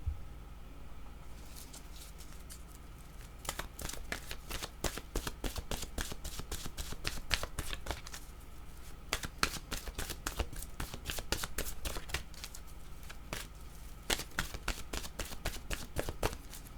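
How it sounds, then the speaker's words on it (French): Oracle cards being shuffled, a long run of rapid crisp riffling slaps and flicks in uneven bursts, close and fairly quiet over a still room. "Allons-y avec une carte maintenant de mon oracle de l'âme intuitive."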